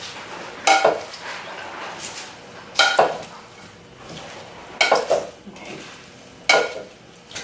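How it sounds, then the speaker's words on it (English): Metal tongs toss wilted collard green salad in a bowl, giving four loud clattering bursts of scraping and clinking at steady intervals with quieter rustling between, while a voice says a brief word. "So I'm gonna just take the tong and mix everything."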